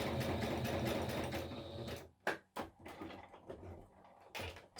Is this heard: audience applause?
no